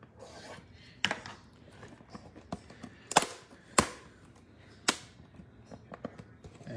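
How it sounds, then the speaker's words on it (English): A dull knife slicing open Panini NFL trading card packs, giving a few sharp cracking snaps and rasping scrapes spread across the stretch, with soft handling rustle between them. "Man, I need to sharpen my knife."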